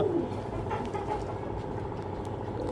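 Soft, low cooing of a young red checker pigeon over a steady background rumble, with a faint engine hum running throughout.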